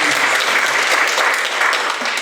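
An audience at an academic discussion forum claps together, giving a dense, steady burst of applause that fills the room at even loudness before easing off slightly at the end.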